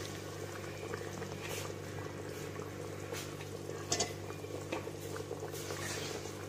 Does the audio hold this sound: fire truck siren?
no